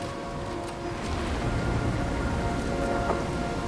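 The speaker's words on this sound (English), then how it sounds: "So that is acid rain" Acid rain pours steadily in Nobody Wants to Die, a dense continuous hiss of falling drops with a low rumbling undertone and a few sharper splashes.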